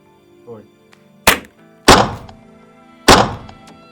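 Airsoft pistol BBs strike mesh goggles from close range, three sharp, loud thwacks with short decays spaced about a second apart, after a faint tonal bit near the start.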